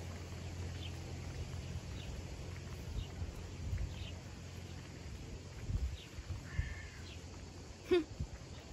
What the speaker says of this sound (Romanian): Am auzit și o ciorică aici în